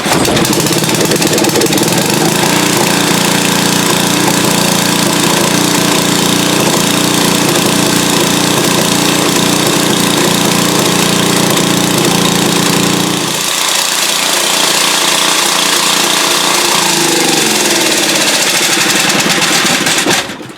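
A Briggs & Stratton GenPower 10 HP generator engine runs loud and steady with a rough, hammering drone, then the pitch shifts and the tone settles partway through as the engine keeps going alone.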